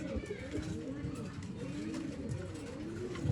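Pigeon cooing at a pigeon seller's in Bangalore, soft repeated throaty coos close by, layered over each other and continuing throughout with a little background chatter.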